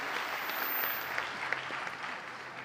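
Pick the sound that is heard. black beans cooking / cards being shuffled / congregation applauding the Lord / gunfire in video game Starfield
congregation applauding the Lord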